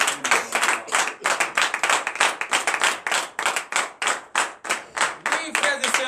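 Worshippers at a morning prayer service in Comè, Benin clap loudly in a fast, even rhythm, with voices mixed among the hands throughout.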